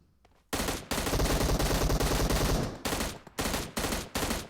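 Rapid automatic gunfire in the mobile battle royale game PUBG Mobile, a loud sustained burst followed by several shorter bursts close up, with no talking.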